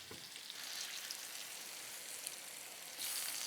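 Sweet potatoes topped with brown sugar fry in a very hot pan with a continuous crackling sizzle, close and even, growing briefly louder near the end.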